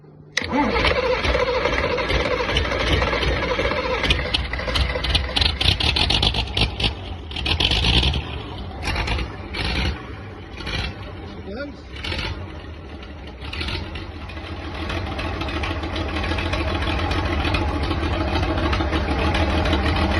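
A loud diesel tractor engine, its pump timing just adjusted, runs close by, chugging and idling with an uneven rumble that settles into a steady throb.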